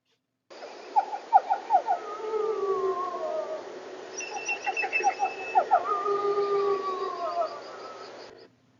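A wolf gives a series of rising and falling whines and whimpers, close and fairly loud, with short yelping bursts between long sliding cries, much like a dog whining at a door.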